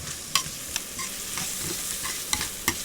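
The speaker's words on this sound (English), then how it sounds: "And we'll just saute those onions" Sliced onions sautéing in butter in a pan, a steady bright sizzle with occasional soft stirring clicks and scrapes, close and continuous with no talking.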